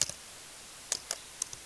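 Typing on a computer keyboard, a few soft, separate key clicks spread over a moment of near silence, faint and close.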